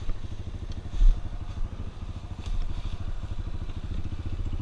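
A Tornado 293 cc trail motorcycle climbs an uphill dirt trail, its engine giving a steady low chugging drone with faint rattles and clatter throughout, fairly close and without speech.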